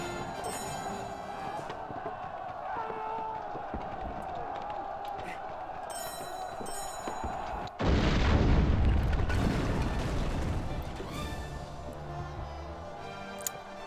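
Explosions during a battle in The Hobbit video game: a sharp boom erupts midway, followed by rumbling debris and crackle, with faint ticking and game audio beforehand.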